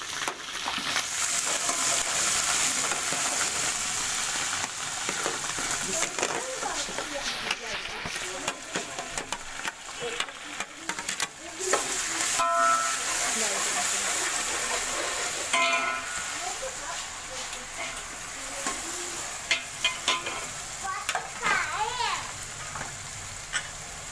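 Ginger and garlic frying in hot oil with spices for matar pilao, a steady loud sizzle with stirring scrapes and clinks running throughout, close up.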